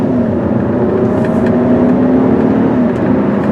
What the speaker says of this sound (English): take off at a nice clip so you can see how nice the acceleration is